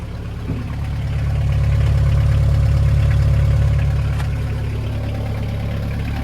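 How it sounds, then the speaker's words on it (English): A rusty diesel engine idles close by in a steady, low, even rumble that swells slightly after the first second and holds without talk. "Yep, it sounds like a diesel."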